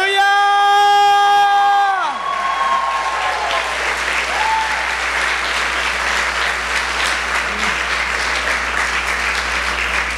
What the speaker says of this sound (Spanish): Yo quiero que le demos un fuerte aplauso a Jesucristo por la victoria que nos dio.